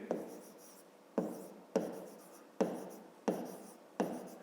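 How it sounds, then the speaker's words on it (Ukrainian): Pen or pencil writing numbers on paper during a fifth-grade maths exercise, giving six separate scratchy strokes spaced about a second apart, close and fairly quiet. "Записуємо тоді перше."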